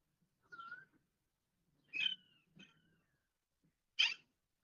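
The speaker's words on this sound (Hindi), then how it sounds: "ये जो पंछी की आवाज है," A bird calls outdoors in a few short, separate chirps and whistles spread across the clip, fairly faint against a quiet background with no talking.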